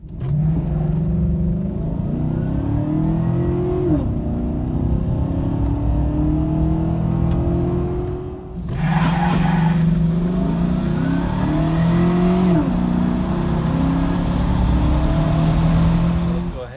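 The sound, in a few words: Chevrolet Silverado engine revving with Volant cold air intake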